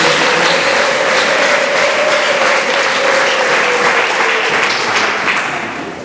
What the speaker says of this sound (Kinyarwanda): hadukomera Imana amashyi.